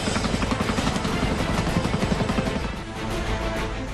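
Chinook and Mi-17 military helicopters airlifting pilgrims during flood rescue operations in India, with a loud, continuous, close rotor roar and rapid blade chop that eases slightly toward the end.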